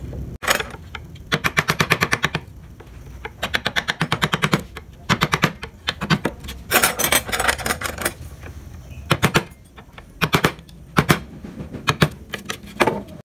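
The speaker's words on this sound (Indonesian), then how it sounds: "kalian rapikan menggunakan pahat kol yang kecil ini ya" A small gouge chisel, struck in rapid bursts, cleans up a carved Pajajaran-style wood ornament, giving clusters of sharp, close, rhythmic taps separated by short pauses for about thirteen seconds.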